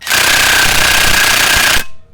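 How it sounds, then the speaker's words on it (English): A loud, rapid hammering power tool runs steadily for nearly two seconds at close range on a car's wheel rotor, then cuts off abruptly. "Love the power tool Randy gave me."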